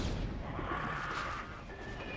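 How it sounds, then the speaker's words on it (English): Cannons in the StarCraft strategy game fire during a match, producing a dense, rumbling barrage of low booms and bursts that stays steady and moderately loud, with no talk. "My cannons will take care of that idiot."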